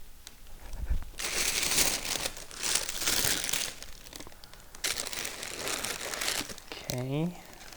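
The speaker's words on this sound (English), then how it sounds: "Nice tissue paper here." Tissue paper crinkling while unboxing Tom Ford calf leather brass chain slides, close and loud in repeated rustling bursts with brief pauses between.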